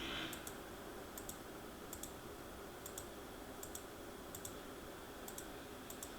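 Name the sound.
mouse clicking with a stamp tool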